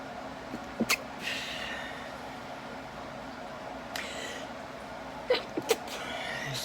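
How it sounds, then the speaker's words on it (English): A couple of sharp sneezes burst out against a steady hum of a fan or air conditioner. "Got the sneezes."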